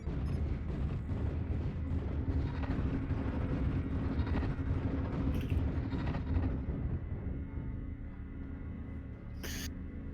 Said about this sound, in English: Artillery strike on